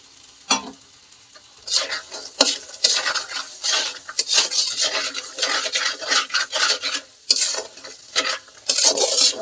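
Boiled chickpeas and corn stirred and fried in a spice masala, a close, continuous rough scraping of a spoon against the pan in repeated strokes with brief pauses, no voices over it.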